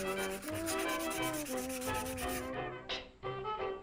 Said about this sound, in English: Now I'm going to take the backsplash off and hand sand the trim